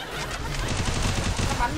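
Rapid automatic gunfire from the video game Free Fire rattles in a dense, continuous burst, loud and close, filling the whole moment.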